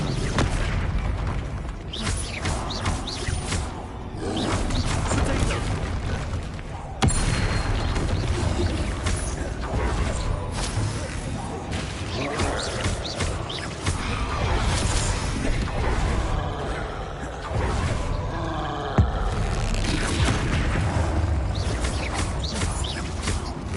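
Confringo blasting spells from Hogwarts Legacy go off as a series of booming explosions and bursts, with loud impacts scattered through a busy battle din.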